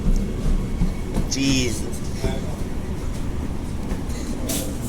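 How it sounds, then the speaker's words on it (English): Mandurah Line train at Rockingham station, heard as a steady rumbling drone with brief squeals and metallic tones as it pulls away, while a person speaks briefly nearby. "Here's another train, set 86. That one's just gonna leave in a second"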